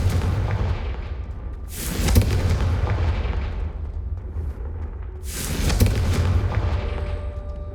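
Confringo explosive spell cast in the video game Hogwarts Legacy, two loud booming blasts a few seconds apart, each with a rumbling tail that fades out.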